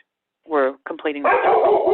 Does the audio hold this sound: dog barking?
yes